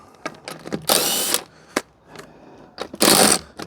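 A Ryobi cordless power tool spins loosened wheel nuts on a Ford AU car in two loud whirring bursts, each about half a second long, with clicks and handling knocks between them at close range.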